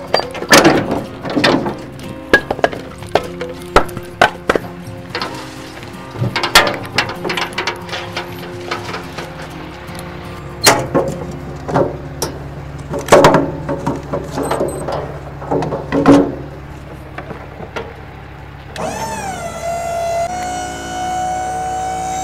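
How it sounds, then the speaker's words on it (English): Gates on a firewood delivery truck are opened with repeated metallic clanks and ratcheting latch clicks, irregular and close, followed by a rising mechanical whine near the end. "Let me open up the gates here."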